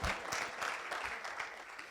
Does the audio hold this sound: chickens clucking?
no